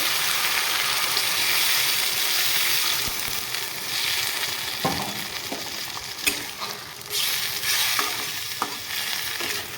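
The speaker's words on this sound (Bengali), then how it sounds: "দিয়ে দেবো সামান্য পরিমাণে জল মশলাটা কষানো হয়ে গেছে" Water poured into a pan of sautéed spice paste for a Bengali rui posto fish curry, a steady close sizzle and bubbling with brief stirring clinks, no talk.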